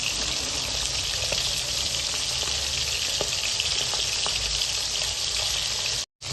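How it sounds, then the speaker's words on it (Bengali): Tangra fish frying in hot oil, a steady, dense sizzle with small pops and crackles running throughout, with no talk. "আমাদের মাছগুলো ভাজা হচ্ছে"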